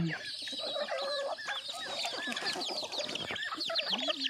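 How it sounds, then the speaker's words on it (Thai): Yellow mixed-breed backyard chickens cluck continuously nearby, with overlapping calls and a few drawn-out crows in a lively, unbroken flock chatter. "ไก่หลังบ้านครับผม"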